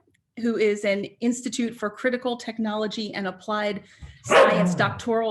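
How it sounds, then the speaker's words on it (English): A dog barks once in a burst near the end, loud and close, right after a stretch of steady speech at a live online conversation. "That was my dog,"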